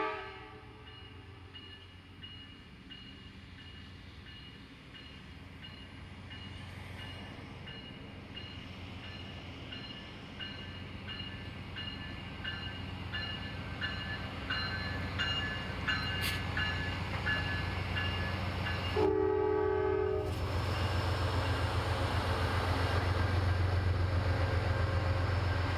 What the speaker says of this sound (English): Amtrak 20, running 2 hours late, finally arrives at its station stop at Gainesville, with P32 number 512 as the second engine